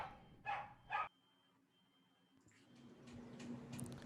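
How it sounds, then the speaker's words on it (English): Dogs bark in a street, two sharp close barks in quick succession followed by faint distant sounds and a low background murmur. "Dogs in the streets all over the place, barking at the heroes as they return."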